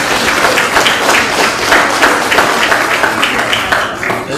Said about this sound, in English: big round of applause for all these young ladies.